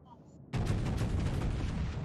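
A ship's guns fire in a naval video game, one sudden loud blast that rolls into a sustained rumbling roar.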